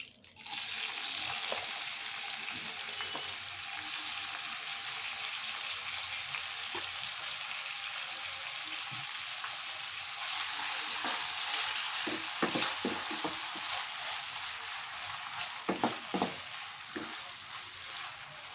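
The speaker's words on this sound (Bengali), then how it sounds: "এখন এই তেলেই আমি পেঁয়াজ দিয়ে দিচ্ছি" Onions sizzling in hot oil for a fish curry, a loud, continuous frying hiss that holds steady, with occasional clinks and stirring scrapes toward the end.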